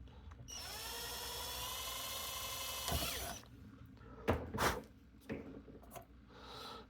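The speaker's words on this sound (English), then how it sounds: "And I'm going to drill." An electric drill bores into a vintage Bally Gold Ball pinball machine board with a steady, close high whine for about three seconds before winding down. A few sharp clicks and handling knocks follow.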